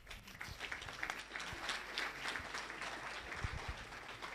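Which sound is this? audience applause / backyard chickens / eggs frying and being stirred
audience applause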